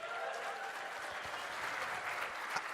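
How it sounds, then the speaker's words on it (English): An audience at the NAGLREP 2018 event in Palm Springs applauds a host's suit, a steady, fairly faint patter of clapping from a crowd. "Applause for the suit."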